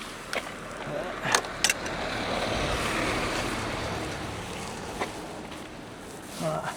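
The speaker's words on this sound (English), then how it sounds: "There's a car coming behind me." A car passes on a road during high winds on an outdoor wild-camping trip, swelling to a broad whoosh near the middle before fading, with gusty wind and a few brief knocks around it.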